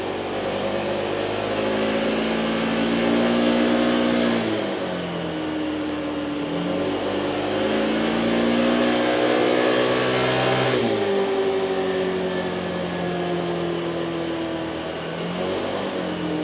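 A Honda Forza 125 scooter engine running on a dynamometer, droning loudly and steadily as it climbs through the revs in long rising sweeps, then drops back and climbs again, close and continuous with no talking.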